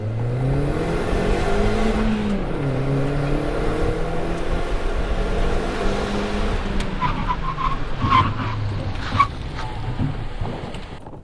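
A turbocharged Toyota Yaris brakes hard from 60 to 0, its engine and road noise steady and loud throughout, then a brief squeal and a few sharp knocks near the end as the car comes to rest.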